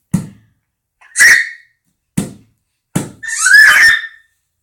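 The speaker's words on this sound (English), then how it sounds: "Yeah, that box is pretty cool. I haven't opened it yet just because you're having so much fun tapping it." An 8-month-old baby tapping on a cardboard box, producing several separate dull knocks and scrapes with short gaps between them, close and alone with no talking.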